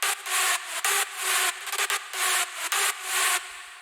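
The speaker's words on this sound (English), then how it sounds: "It's just got a lot of white noise layer with a bit of tonality to it." Nexus synth lead preset called Lead Noise, a heavy white-noise layer carrying a slight pitched tone, playing rhythmic chopped bursts with short gaps, loud and bright, with no voices.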